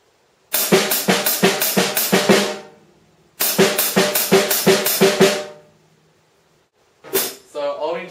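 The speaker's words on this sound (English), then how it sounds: "snare doing ghost notes, which are quieter notes than a regular snare hit." A drum groove with hi-hat and quieter snare ghost notes plays as two quick, evenly spaced bursts of about ten crisp strokes each, close and clear, followed by a short spoken phrase.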